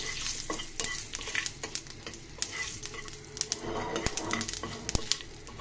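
Dried chillies, panch phoron and nigella seeds crackle in hot oil for a Noakhali green-mango khatta. A soft, quiet sizzle runs under sharp clinks and taps of a stirring spoon.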